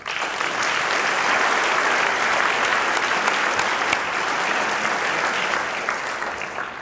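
A hall audience at a Kentucky high school basketball hall of fame banquet applauds steadily to welcome a coach, a dense, sustained clapping that holds for several seconds and then starts to thin.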